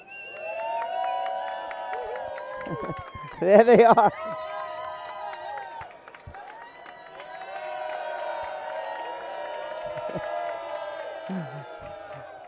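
Spectators at a racquetball singles final cheer and clap in a short loud burst that swells and fades, with an announcer talking before and after over the crowd.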